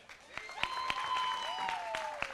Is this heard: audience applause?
yes